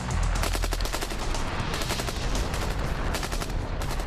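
AK-47 rifle firing on full automatic, a loud dense continuous stream of shots echoing close by, with no talk.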